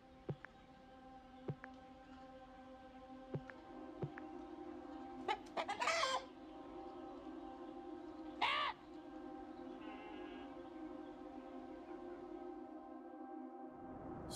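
Hens clucking and squawking on a farm in the video game Orwell's Animal Farm, with scattered short calls and two louder bursts over a steady low hum, fairly quiet overall.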